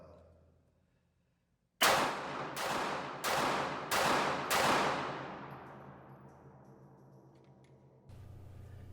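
Five sharp, loud shots from a Ruger LCP Max pistol, fired rapidly at an outdoor range at 5 yards, each report ringing out with a long decaying echo after a silent start.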